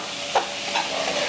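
Flat beans with turmeric and spices sizzle in a pan while being stirred, a constant loud fry broken by two soft scraping strokes of the spoon.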